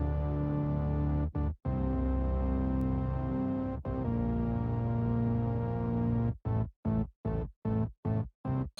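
Two stacked bass sounds, one a Moog synth, heavily processed with EQ, analog clipping, OTT and chorus, hold thick sustained tones and then chop into a rapid, evenly gated rhythmic pulse, with no voices.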